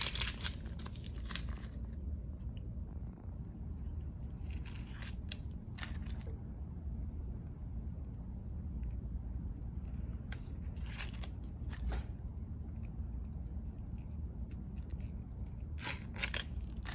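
An onion's dry outer layer being peeled off in a kitchen gives soft, close crinkling and tearing rustles in short intermittent bursts over a steady low background hum.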